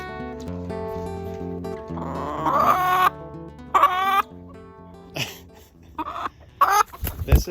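Chickens from a pasture flock being moved in a chicken tractor cluck in short bursts over a sustained musical backing, with a few louder squawks toward the end.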